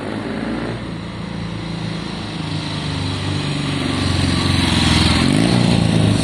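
A Triumph Bonneville T120 motorcycle engine fitted with Pazon electronic ignition runs steadily at close range, a loud continuous throb that rises slightly in intensity toward the end, with no talking.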